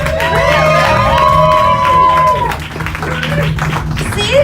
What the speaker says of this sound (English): another round of applause for Lolita Lawless